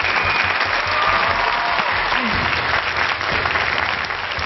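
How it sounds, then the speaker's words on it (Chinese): A studio audience at a televised magic performance breaks into thunderous applause, a thick continuous wash of clapping that holds strong throughout and eases slightly at the end. "通常都有如雷的掌声还有尖叫"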